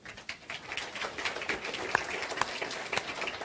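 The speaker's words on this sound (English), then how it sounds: "He always gets clapped." Audience applause in a lecture hall after a speaker answers a question: steady, moderately loud clapping from a crowd with a few sharper individual claps standing out.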